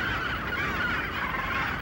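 Taiwan terns, summer migrant seabirds of the gull family, call in a dense continuous flock chorus, many harsh overlapping cries blending into a steady near wash of sound with no talk.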